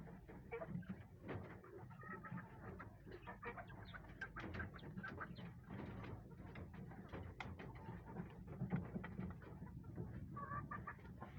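Chickens cluck and chatter continuously nearby while being fed in the afternoon, a busy flock sounding steadily throughout with no talking.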